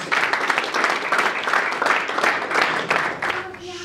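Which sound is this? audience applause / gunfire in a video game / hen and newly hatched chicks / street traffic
audience applause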